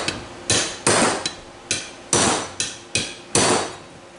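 A hammer strikes a tapered punch driven into a car seat frame from a Lincoln Continental on a table, giving eight loud, close metallic blows in an uneven rhythm, each followed by a short ringing decay.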